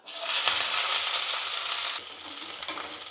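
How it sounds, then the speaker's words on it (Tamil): Hot oil sizzles and crackles steadily with small popping bursts as mustard and cumin seeds splutter, a dense frying hiss that eases slightly partway through. "எண்ணெய் காஞ்சிடுச்சு கடுகு சேர்த்துக்கிறேன் சீரகம் கடுகு பொரிஞ்சிடுச்சு"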